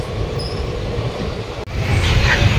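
Black Diamond Express standing at Durgapur station, its rumble and rail noise steady and loud throughout, swelling after a brief dropout into brighter wheel and carriage sound.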